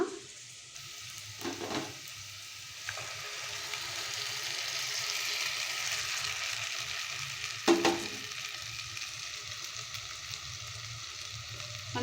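Spice powder and grated coconut going into a pan of sweet pumpkin palya and being stirred, giving a steady close sizzle with a few louder scraping clatters from the spoon against the pan.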